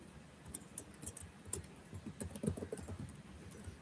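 Rapid computer keyboard typing while code is entered for a shoot 'em up game tutorial, with clustered bursts of close, crisp key clicks and short pauses between runs, no talking.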